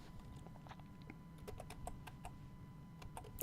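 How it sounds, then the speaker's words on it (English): Someone types on a computer keyboard with quiet, uneven key clicks and a few quick bursts over a soft room hum. "I'm just going to type in one thing."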